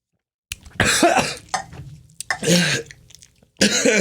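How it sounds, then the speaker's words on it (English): Several harsh, bursty coughs close to the microphone, coming in a quick cluster of loud fits with short gaps between them. "That's a sympathy cough."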